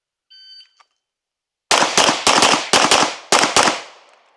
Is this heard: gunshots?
yes